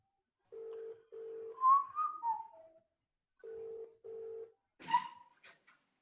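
A telephone call ringing out, with pairs of flat electronic ring tones separated by pauses, alone and fairly clear, broken once by a short warbling whistle-like chirp and a brief sharp click.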